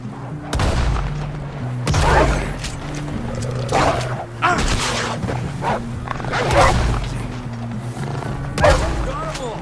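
Gunfire in Red Dead Redemption 2: sharp, repeated shots break out several times over a steady musical drone, with dogs barking and a voice calling out amid the chaos.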